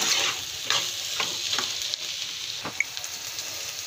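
Chili powder cooks in a nonstick pan, frying with a continuous close sizzle broken by occasional spatula scrapes and stirs; no one speaks.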